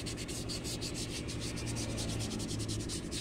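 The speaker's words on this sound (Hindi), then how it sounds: "वहाँ पर आप 220 नंबर का वाटर प्रूफ रेगमाल प्रयोग करें" A tractor body is sanded by hand with 220-grit waterproof sandpaper, giving a steady, rapid back-and-forth rasping rub that stays close and even throughout, with no talking.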